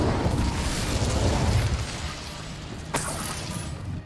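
Confringo and Incendio spell blasts in Hogwarts Legacy: a dense, roaring rumble of fiery bursts with one sharp crack partway through, loud and sustained.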